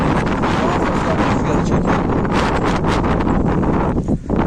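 Heavy wind buffets the microphone outdoors near pigeon lofts throughout, a constant loud rumbling roar with gusty surges and no clear voices.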